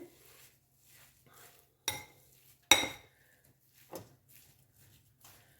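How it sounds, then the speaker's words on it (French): Stuffed mushroom filling is mixed in a bowl, with a few sharp utensil clinks against the bowl between quieter scraping and stirring sounds, close and fairly soft, no talking. "Je vais mélanger."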